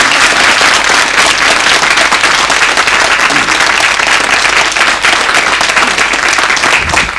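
An audience at a televised show bursts into dense, sustained applause, loud and close, with many hands clapping steadily for the whole stretch.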